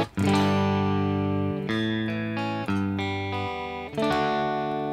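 Clean electric guitar chords in a coil-tapped tone with the volume rolled back ring out, several strummed changes sustaining with a bright, glassy tone and no voice.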